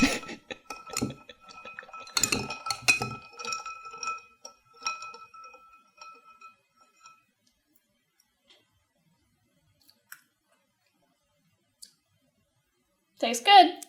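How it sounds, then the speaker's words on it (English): Ice clinks and ticks against a rocks glass as it is stirred for an old fashioned cocktail, with busy close clinking for several seconds, then a few isolated taps over near silence and a brief sound at the end. "You want to try not to jostle the ice around. Go around the outside."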